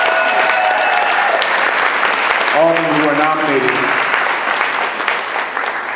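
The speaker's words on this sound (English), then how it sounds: "Can we give them a round of applause?" Steady, dense applause fills a hall as an audience claps for nominated authors at an evening literary celebration, someone speaking over the continuous clapping.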